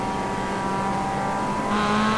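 A race car in a 55/65 Plus class race at Summit Point accelerates hard onto the straightaway, its engine note loud, close and steady, climbing in pitch near the end with a bright rising tone.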